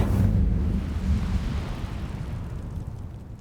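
Incendio fire spell cast in Hogwarts Legacy, a loud whooshing burst of flame with a deep roar that swells at once and slowly fades away, no voices over it.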